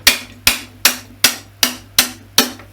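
A hammer taps a rusted axle out through the plastic of a 1998 Dyson DC01 vacuum cleaner. Seven sharp, evenly spaced knocks ring out close up, with no talking.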